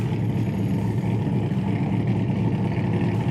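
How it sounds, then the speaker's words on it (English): A 1964 big block Corvette convertible engine runs at a steady, loud, deep rumble throughout, with no talk over it. "this car, as I said, is quite loud"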